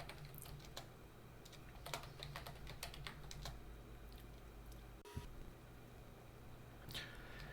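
Quiet, rapid clicking of keys on a computer keyboard as commands are typed, an irregular run of light taps over a low steady hum, with no talking.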